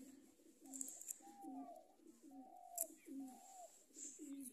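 A pair of pet pigeons coo softly in repeated low, rolling phrases, fairly close and quiet, with a few faint chirps and no talking.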